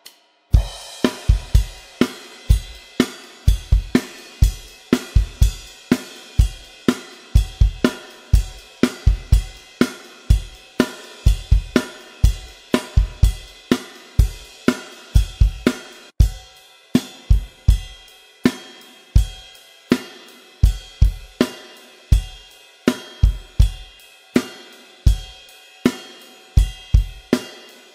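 Drum kit playing a two-bar chorus groove, a steady, driving pattern of kick and snare hits under washing cymbals, loud and close with no voices, repeating for the whole stretch.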